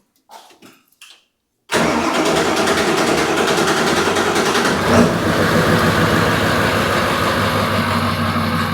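A large PowerStroke diesel engine in a 1941 Ford truck cranks with a few short starter bursts, then catches and settles into a loud, steady rumbling idle close by.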